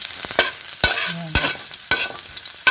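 Ginger sautéed in oil left over from frying pompano, a steady close sizzle broken by several sharp stirring scrapes and clacks from a utensil in the pan, with no talk.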